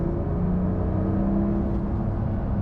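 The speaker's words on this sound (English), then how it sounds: "You can hear the turbocharger back there, that's for sure." A 2025 Porsche 911 Carrera 4 GTS T-Hybrid accelerating in manual mode, heard from the cabin: a steady, loud engine drone with a faint turbocharger whir layered on top, with no talking.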